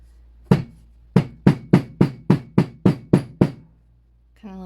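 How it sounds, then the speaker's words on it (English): A hammer strikes a denim seam nine times in sharp, close knocks. There is one opening hit, then a quick, even run of eight blows, and a faint voice starts at the end. "give that a few little whacks with a hammer just to soften it up"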